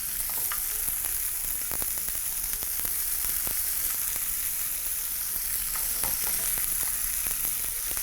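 Beef strips fry in a pan with a steady, close sizzle that runs throughout, crackling evenly with faint scattered pops and no voices.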